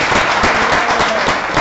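A congregation claps together at a church gathering, honoring Jesus, in a steady, dense wash of applause that stays close and loud for the whole moment, without talk over it.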